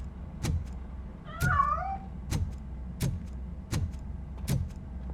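A cat in the RoboCop Rogue City video game gives one drawn-out meow, set among steady, evenly spaced heavy footfalls over a low background hum.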